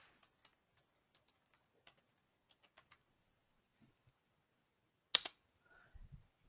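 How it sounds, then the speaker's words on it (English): Quiet, sparse clicks of typing an email address on a computer keyboard, a run of light separate keystrokes followed by a louder clack and a soft shuffle near the end. "I am typing the email address again."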